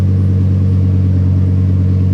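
A car engine idles loudly just after startup, a deep, steady rumbling drone with a firm low hum, constant and close with no talk over it.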